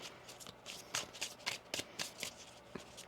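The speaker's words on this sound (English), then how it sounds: "One more shuffle here." A deck of cards being riffled and shuffled, a series of quick crisp flutters close up, with no talking.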